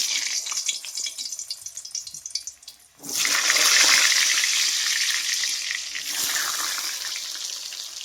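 Potatoes drop into hot oil in a wok and erupt into a loud, close sizzle after a quieter stretch of soft stirring and bubbling, the frying hiss staying strong to the end.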